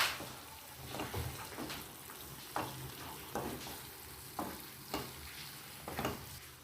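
Mutton masala with Kashmiri chilli powder stirred in a pan, a soft sizzle with a series of regular spoon scrapes and clicks about once a second, close but quiet, no voices.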